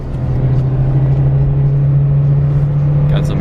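A Mitsubishi Evo passes on the road with a steady, loud low engine drone and rumble that holds throughout, with no talk over it.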